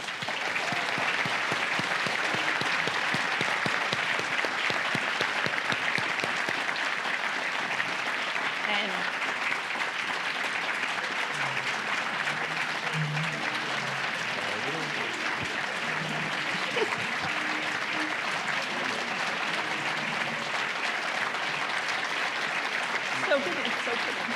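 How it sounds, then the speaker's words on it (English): Warm, sustained audience applause for panelists at a workforce summit, a continuous wash of clapping that holds steady for over twenty seconds, with some talk mixed underneath. "I just want to end with a very, very warm round of applause for every one of our panelists."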